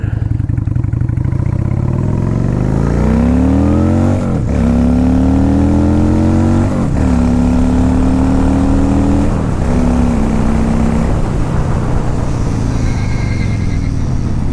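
A loud, close 2002 Honda VLX 600 Shadow cruiser motorcycle engine revs up through the gears, its pitch climbing and then dropping sharply at each of several shifts.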